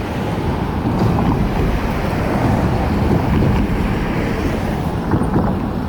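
Steady wash of water and wind noise, like a boat moving across open water, with continuous broadband rumble and no voices.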